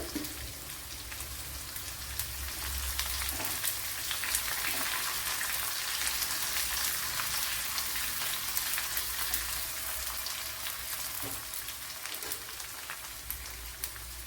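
Chopped onion fries in hot oil with popped mustard seeds for a tomato curry, a soft, steady sizzle with fine crackles running evenly throughout.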